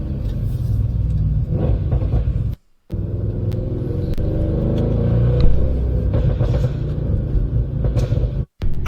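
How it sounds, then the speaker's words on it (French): Audi RS6 engine rumbling loud and close in a deep, steady drone that swells slightly mid-way, broken by two brief sharp cut-offs. "Ça pétarade."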